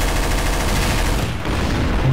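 A bomb going off in Garry's Mod, heard as a dense, sustained roar of rapid crackling bursts that carries loudly through the whole moment, briefly dipping before surging again.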